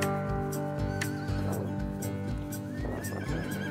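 A family horse, handed down through generations, and semi-wild yılkı horses in the green valleys of Hürmetçi village, Turkey, whinny in loud, repeated calls, with faint hoof clip-clop underneath.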